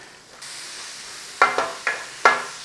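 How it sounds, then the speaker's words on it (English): Onions and peppers hit hot oil in a pan with a steady sizzle, followed by four sharp scraping knocks of stirring spaced about half a second apart, close and fairly loud. "we've got the oil in there. Let's chuck the onions in. Let's chuck the peppers in."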